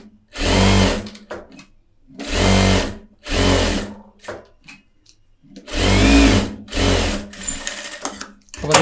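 A tailor's sewing machine stitching fabric runs in loud, close bursts of rapid mechanical whirring, about four runs of a second or so each with short quiet pauses and small clicks between them.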